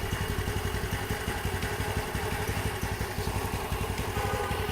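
A rebuilt Honda Elite 150 scooter engine idles low and steady, a close, even mechanical putter with a rapid regular pulse and light clatter, running alone without voices.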